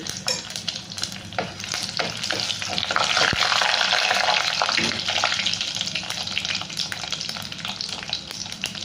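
Dried red chillies dropped into hot oil with mustard seeds, a steady close sizzle and spatter with scattered pops and a stirring scrape, no talking.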